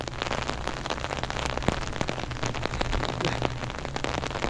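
Rain falling steadily on an open field, a dense, even patter of drops close by, with no voices.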